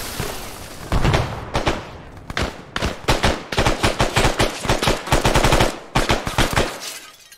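Explosions and heavy gunfire in the military video game Arma 3 burst loudly in a rapid string of booms and cracks, with brief gaps between volleys.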